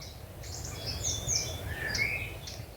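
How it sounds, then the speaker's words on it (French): Warblers give repeated high, sharp alarm calls in short bursts over a low outdoor rumble. "là il y a les alarmes des fauvettes"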